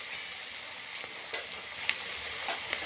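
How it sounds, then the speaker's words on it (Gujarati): Onion frying in a pan for spinach rice, a steady soft sizzle with faint crackles and a couple of brief clinks, heard alone at low level. "ડુંગળી બહુ જ સરસ મજાની શેકાઈ રહી છે"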